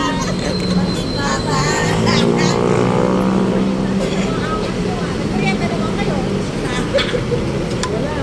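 Vehicle on a free ride service, its steady engine and road rumble running loud and close throughout, with chatter and voices mixed in.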